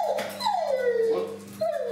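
A dog whimpers and whines at a reunion with a long-unseen companion at an animal shelter, a close, high, wavering whine that slides downward and then rises again in a second cry.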